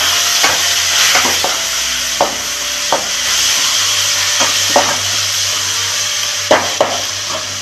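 Green chillies, dried red chillies, cumin and mustard seeds frying in a pan for upma, a steady loud sizzle broken by sharp stirring clacks at irregular intervals, with no voices.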